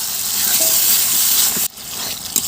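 A spice masala with turmeric and salt for chicken curry fries loudly in a pan as it is stirred, a dense close sizzle that cuts out abruptly, then resumes with a scrape.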